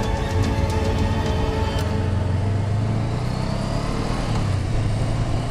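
A truck passes close on the left on a border road between Thailand and Laos, its loud engine rumble blending with the steady roar of a touring motorbike throughout.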